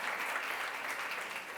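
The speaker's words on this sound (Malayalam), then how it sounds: "ഒന്ന് നല്ല ക്ലാപ്പ് കൊടുക്ക്" Audience applause at a makeup seminar in Trivandrum, a steady, dense clapping from a crowd filling the room at moderate level without a break.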